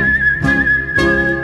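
Two bright, steady tuneful whistled notes ring out alone in a children's song, a short rhythmic pair of phrases held clearly and loud.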